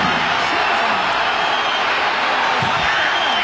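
Home Kashiwa fans booing in Hitachidai Stadium during a football match against Kashima Antlers: a loud, sustained wash of crowd noise filling the whole stretch without letup.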